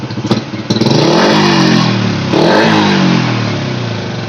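An old Honda Supra motorcycle that hesitates and stutters under the throttle is revved hard up close in two loud rising surges. Its engine drone is sustained and rough throughout, and there is no talking.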